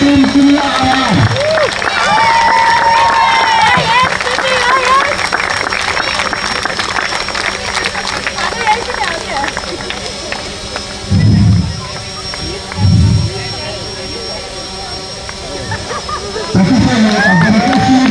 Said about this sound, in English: a big round of applause for Team Kini Herons.